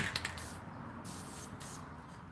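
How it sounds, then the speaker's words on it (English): Spray paint hisses from a can onto a knife in several close, soft bursts, a steady airy spray with brief pauses between passes. "I'm spraying on my knife, on a knife, and then flipping it over and going, pow"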